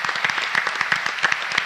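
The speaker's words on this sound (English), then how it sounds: "Just one more round of applause for all of our students at the asset program." An audience at a school board meeting giving a round of applause for students, brisk dense clapping from a roomful of hands, steady and fairly close for a short burst.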